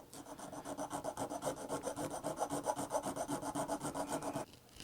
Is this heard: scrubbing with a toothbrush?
yes